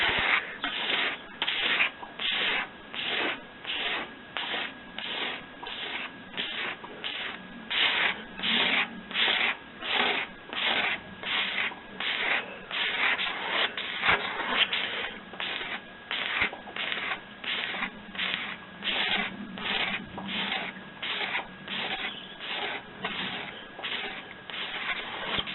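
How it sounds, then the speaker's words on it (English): Stanley knife blade scraping old woodturning lathe parts clean with oil: steady, rhythmic back-and-forth rasping strokes, close and fairly loud, repeating about once a second throughout. "just get a Stanley knife blade and just scrape them"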